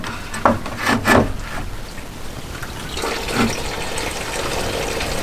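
Coolant drains from the radiator of a 2000 Ford Mustang with a 4.6L V8. A few close knocks and clunks come first, then liquid runs out in a steady splashing trickle.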